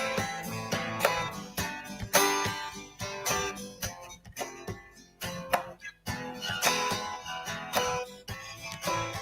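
Acoustic guitar strumming the chord progression of a Hindi song, steady rhythmic strums with ringing chords for about nine seconds, played alone without talk.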